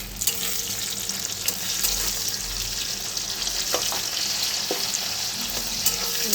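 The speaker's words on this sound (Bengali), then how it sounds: "একটু নাড়াচাড়া করে ভালো করে ভেজে নেবো।" Tomatoes and already-fried onions sizzle steadily in a hot oiled pan, with the scrape and clatter of stirring breaking through the constant close frying hiss.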